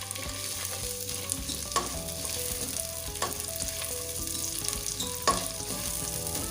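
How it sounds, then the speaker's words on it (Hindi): Chopped onions frying in oil for chicken biryani, a steady close crackling sizzle with scattered pops and spits throughout, no voices over it. "प्याज को अच्छे से गोल्डन ब्राउन होने तक हम फ्राई करेंगे।"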